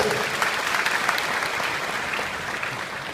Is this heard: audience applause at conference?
yes